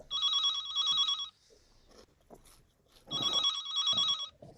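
A telephone bell rings in two warbling bursts, each about a second long with a pause between, sounding fairly close and loud, with faint muffled noises in the gap.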